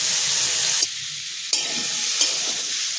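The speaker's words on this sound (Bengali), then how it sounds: "হালকা করে ভাজবো" Drumstick stems lightly frying in a pan, a loud continuous sizzle broken by a few sharp bursts as the pieces are stirred and turned, with no talk.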